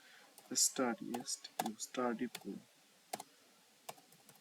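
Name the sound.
typing on a laptop keyboard and pressing Enter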